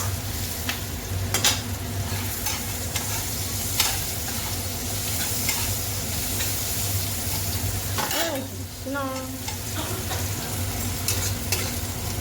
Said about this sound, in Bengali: আমি দেখো আলুটা দিয়ে এবারে ভালো করে কষিয়ে নেবো।